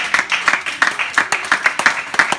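A church congregation applauds with a steady, rhythmic clapping, roughly three claps per second, loud and close, in a sustained burst.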